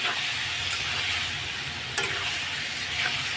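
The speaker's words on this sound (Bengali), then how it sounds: "আর একটুখানি জল দেবো, কষিয়ে নিচ্ছি।" Fish curry masala with a little added water cooks down in a pan, giving a steady broadband sizzle and hiss with a couple of brief clicks of stirring, close and alone without talk.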